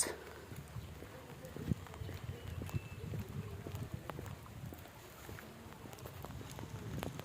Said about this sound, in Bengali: বৃষ্টি হচ্ছে কন্টিনিউয়াস।